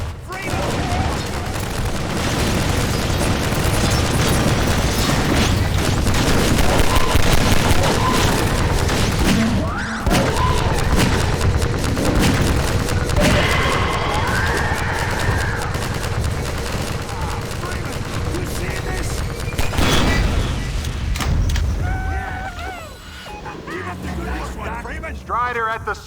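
Battle noise from Half-Life 2: Episode One as Strider walkers are fought at White Forest, with dense, continuous gunfire bursts, crashes and booming impacts across the whole stretch, loud and layered, while voices shout over the combat.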